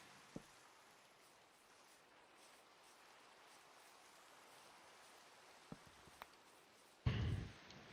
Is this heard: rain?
yes